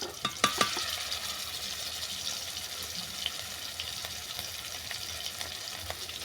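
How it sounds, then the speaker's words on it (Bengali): Onion, green chilli and ginger-garlic paste frying in hot oil in a pan, a steady close sizzle with a few sharp stirring clicks near the start and occasional utensil taps throughout. "এই তেলের মধ্যে দিয়ে দিচ্ছি পেঁয়াজ আর কাঁচা লঙ্কা বাটা দিয়ে দিলাম আদা রসুন পেস্ট"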